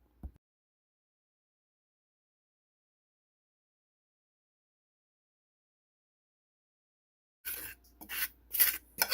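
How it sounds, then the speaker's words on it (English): A fork stirs flour mixed with paprika and garlic powder. After a long silence there are a few brief, close, scratchy scraping bursts near the end. "Going to mix this up. See, I'm just using a fork."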